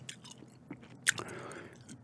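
Gum chewing right at the microphone, with wet, sticky smacks and small crackling bites in an uneven rhythm, one sharper snap near the middle, and no voice.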